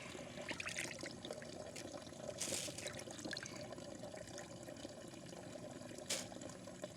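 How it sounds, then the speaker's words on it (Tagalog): Fresh bullet tuna (tulingan) rinsed under running water to wash out the blood: a faint, steady stream of water splashing and trickling, with a brief louder gush near the middle. "Hugasan ko lang to ng hanggang mawala na yung dugo niya guys"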